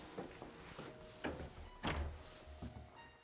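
Faint, distant knocks and thuds of an old door being handled inside an abandoned French mansion built in 1880, several irregular bumps and scrapes with one fuller thump in the middle.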